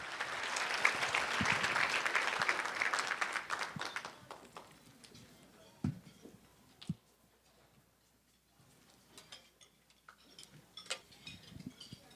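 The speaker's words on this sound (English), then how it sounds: "How about another big round of applause for these extraordinary youth?" A luncheon audience breaks into applause that is full and lively for the first few seconds, then thins to scattered claps and fades out, followed by a few faint knocks and quiet room sounds.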